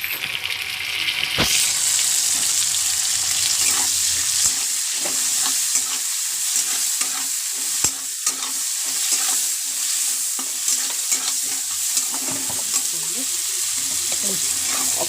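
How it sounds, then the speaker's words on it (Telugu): Tomatoes with ginger garlic paste and onions frying in a pan, a steady loud sizzle with scraping stir strokes and occasional clinks, close up with no talking. "టమాటాలు ఇంకా అల్లం వెల్లుల్లి పేస్ట్ వేద్దాం"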